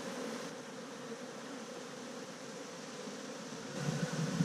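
Honey bees at an opened hive during a summer inspection, a steady, dense buzzing hum that holds evenly throughout, close to the listener.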